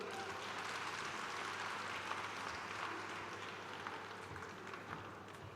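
Faint, steady applause rises from an audience after a live recital, an even wash of many hands clapping heard from a distance, with no voices over it.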